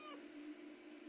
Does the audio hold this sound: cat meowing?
yes